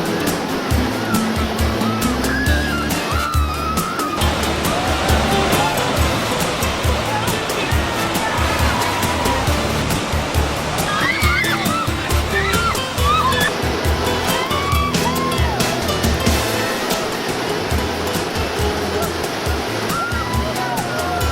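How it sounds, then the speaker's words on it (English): Whitewater rapids on the free-flowing Salmon River near Riggins, Idaho, roaring loud and steady throughout with continuous churning and splashing, close to the listener. "The Salmon River, completely free-flowing and natural,"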